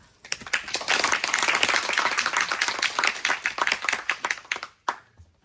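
A room of reporters at a press event breaks into brisk applause, a close, steady patter of many hands that runs for several seconds and then quickly dies away into silence.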